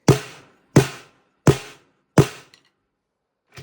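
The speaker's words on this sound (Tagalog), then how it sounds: "ganito ang tunog ng snare nila" Four evenly spaced snare drum hits crack with a short, low, thick body, followed by a faint final tap after a pause.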